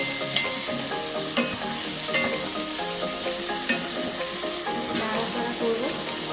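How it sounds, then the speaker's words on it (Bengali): Green peas stir-fried in oil in a wok, with a dense, continuous sizzle and crackle and frequent spatula scrapes and knocks against the pan, close and loud. "কড়াইশুঁটিগুলো দিয়ে আবার নাড়াচাড়া করব।"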